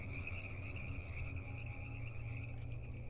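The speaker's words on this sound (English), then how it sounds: "I could hear the thousands of frogs and crickets that were going off behind my" A dense nighttime chorus of frogs croaking and crickets chirping continuously behind a house, steady and fairly distant, with no voices.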